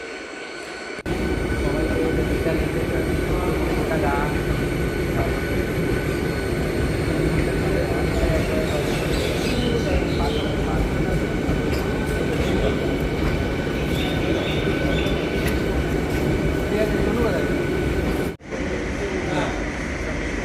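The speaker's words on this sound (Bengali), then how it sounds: "দেখুন বন্ধুরা ট্রেনটা বেরিয়ে যাচ্ছে, কত সুন্দর লাগছে দেখুন" A local train departing a station rumbles steadily and loudly close by for a long stretch on the Krishnanagar–Amghata line, a continuous heavy roar of wheels and carriages moving past.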